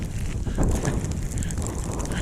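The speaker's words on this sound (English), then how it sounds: "The wind is kicking up." Wind gusts in a snowstorm on a winter hike on the Pate Hollow Trail in Hoosier National Forest, a steady loud roar buffeting the microphone, no talk.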